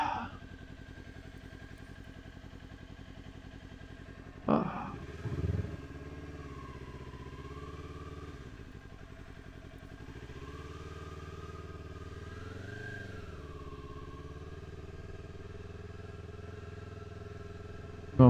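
A motorcycle rides and pulls in to park. Its steady, close engine drone runs throughout, with a clattering bump and a couple of brief rises in pitch as it slows and settles.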